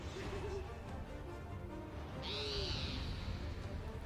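An owl boss in the Final Fantasy XIV Great Gubal Library dungeon gives a hooting call, with a brighter high cry partway through, set against game music and ambience.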